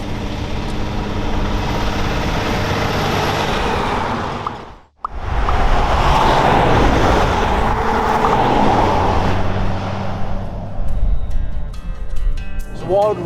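An off-road 4WD vehicle driving through remote, scorched tropical outback in the wet season, a loud steady engine and tyre rumble with rattling, briefly cutting out before resuming, voices talking over it near the end.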